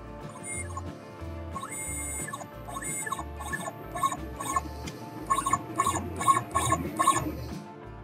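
A CNC mill under LinuxCNC control jogs its Z axis downward, its stepper drives giving short pitched whines and squeals in an uneven stop-start rhythm, close and fairly quiet, with no talking.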